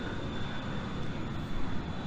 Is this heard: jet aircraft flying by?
yes